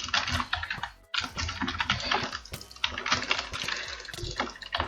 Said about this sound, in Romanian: Scuze dacă se aude tastatura așa tare